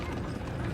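Horse hooves clip-clopping in a Xena: Warrior Princess battle scene, a steady dense clatter of many hooves under a mechanical, ratcheting background, with no talk.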